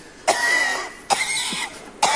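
A person coughs three times in a row, evenly spaced and close to the listener. Each cough is harsh and rasping, with short pauses between them.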